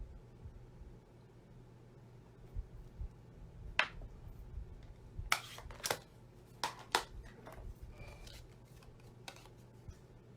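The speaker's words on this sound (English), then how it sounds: "Use a straight edge here because I'm going to cut this." Paper is cut along a straight edge, first with a single sharp snip, then with a quick cluster of crisp cutting and handling sounds. A faint steady hum runs underneath, and no one speaks.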